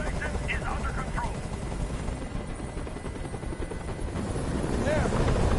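A helicopter hovers in the video game Detroit: Become Human, its constant rotor thrum filling the scene loud and near, while voices speak over it.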